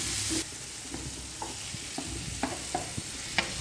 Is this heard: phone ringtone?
no